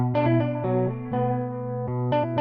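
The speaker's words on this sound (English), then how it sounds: "So on guitar now, electric guitar." Electric guitar chords ring out through the Rob Papen RP-AMOD shimmering modulation effect, sustained and swirling, with a few fresh strums over about two seconds.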